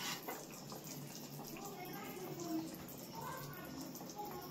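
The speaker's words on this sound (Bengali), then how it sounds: "তো দেখো মাছের ঝোল ফুটে গেছে" Thin village-style Bengali fish curry simmers in a pot over a low flame, giving a faint, steady bubbling hiss that carries on without a break.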